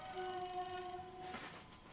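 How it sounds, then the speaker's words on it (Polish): A train sounds its horn from far off, a steady two-tone blast lasting over a second before cutting out, followed by a faint, distant rumble and hiss of the passing train. "Pociąg leci z daleka."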